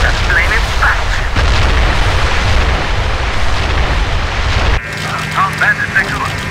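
A battle cruiser blows up in the Heroes over Europe air-combat game, a heavy, rumbling boom that churns for several seconds and then cuts off abruptly, with voices talking over it throughout.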